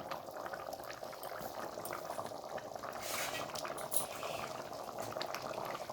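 Aloo dum, a potato curry, bubbles steadily in a pot, a continuous close simmering hiss with brief faint clinks partway through.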